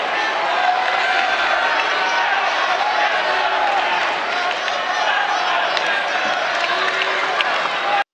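A wrestling show audience cheers and claps in a large arena, a steady dense roar of crowd noise with whoops, continuous and fairly loud throughout.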